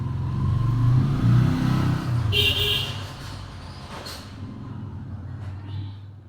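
A car swells past nearby, its engine rumble loud at first, then easing into a steadier hum of traffic.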